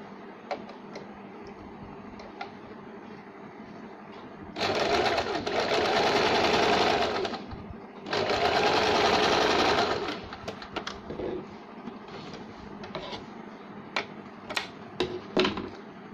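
A sewing machine stitches a double-shade saree blouse and its lining in two sustained loud runs of rapid whirring, separated by a short pause and followed by scattered light clicks and handling taps.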